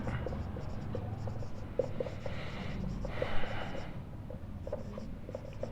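Chalk or marker scratches across a board during a differential geometry math lecture, faint tapping strokes and short scribbles under quiet background hum.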